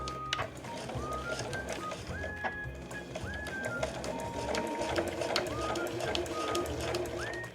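A household EX7 sewing machine with a size 11 needle for regular fabric stitches in a steady mechanical run, fairly quiet, while birds chirp and coo repeatedly in the background.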